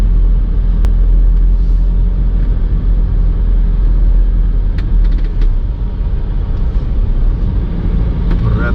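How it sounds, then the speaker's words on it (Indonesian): Heavy dump trucks loaded with sand pass on a rural road on a holiday travel route, making a loud, continuous low engine rumble and road roar close by, with no talk. "dump truck muatan pasir ini berat-berat."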